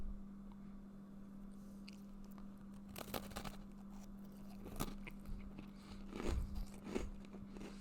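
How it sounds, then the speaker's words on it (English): Close, loud crunching as someone bites and chews a cookie, with a few distinct crunchy bites spaced over several seconds above a steady low hum, no talking. "he was chewing that cookie so loud that it woke up the dog"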